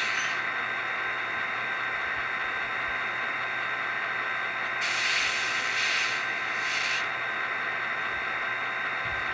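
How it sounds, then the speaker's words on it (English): Steady hissing, whirring hum of an HO scale model locomotive's air compressor sound effect, an Intermountain BN SD40-2, running continuously, with a brief brighter burst of hiss partway through. "What you hear, F1 is the compressor."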